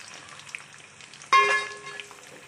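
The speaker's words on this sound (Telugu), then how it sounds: "ఆయిల్ వేసుకొని చికెన్ డీప్ ఫ్రై చేసుకుందాము." Chicken dropped into hot groundnut oil for deep frying bursts into a sudden loud sizzle after a quiet stretch, then bubbles and crackles steadily as it fades slightly, close up.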